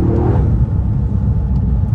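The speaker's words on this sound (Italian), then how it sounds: "Turbina fischia davvero tanto." A Toyota Yaris GR driven on snow, a steady, loud engine drone with low rumble and faint turbo hiss, sounding close as if from inside the car, no voices.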